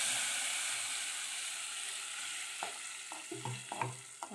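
Ground tomato masala fries in a pan with a quiet, steady sizzle and hiss, joined in the last couple of seconds by a few close, sharp scraping strokes as it is stirred.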